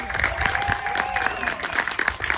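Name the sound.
audience applause at visitor center reopening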